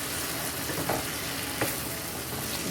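Salted codfish fries in a pot with a steady, dense sizzle that stays close and even throughout, joined by a couple of brief stirring scrapes.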